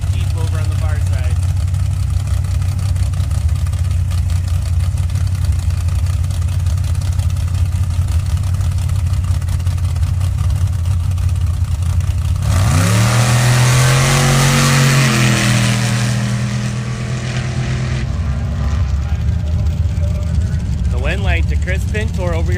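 At a drag strip's Pro Bracket eliminations, a brown square-body Chevy pickup and a red Jeep idle loudly at the line, then launch together with a sharp rising roar that fades as they pull away.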